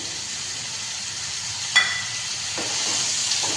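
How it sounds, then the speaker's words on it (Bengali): Potato and snake gourd (chichinga) fry together in a pan for a posto dish, a continuous close sizzle broken by a sharp clink of a utensil midway and a couple of soft stirring scrapes afterward. "এবার ওর মধ্যে দিয়ে দিচ্ছি চিচিঙ্গাটা একসঙ্গে এবার ভেজে নেবো"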